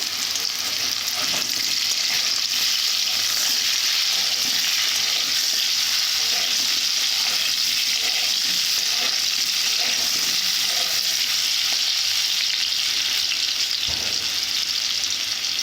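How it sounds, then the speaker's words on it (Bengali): Potatoes and chili powder fry in hot oil for a crab curry, giving a loud, continuous sizzle with occasional stirring scrapes and no talking. "এইভাবে কিছুক্ষণ আমি ভেজে নেব গুঁড়ো লঙ্কা দেওয়ার পর দু মিনিটের মতো ভেজে নিয়েছি"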